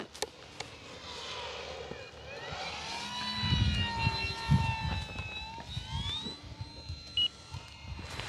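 Small electric ducted fan RC jet model flying slowly and low past, a steady high-pitched whine rising and shifting in pitch as it nears and moves away, with outdoor background noise.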